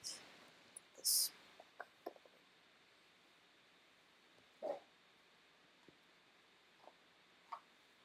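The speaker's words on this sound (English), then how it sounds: "stop barking." A dog barks faintly now and then in a quiet indoor room, a few short, distant yips and woofs scattered among soft clicks and light background hiss, with no talking.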